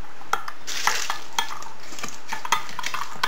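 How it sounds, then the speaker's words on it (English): A spoon stirring crumbled stock cubes into liquid for beef stew, quick close clinks and scrapes against the container in an uneven rhythm over a hissing background, without speech. "Then I'm going to take a spoon and I'm just going to mix that up."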